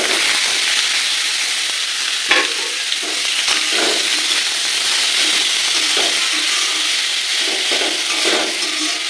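A bay leaf dropped into hot oil in a pan, producing a loud, dense, steady frying hiss up close, with occasional sharper pops and crackles and no one talking.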